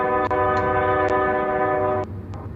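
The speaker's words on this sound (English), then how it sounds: "There's another train." At Marias Pass, a loud, sustained train horn blares with steady harmonic tones over rumbling rail noise, cutting off near the end as the train keeps rolling.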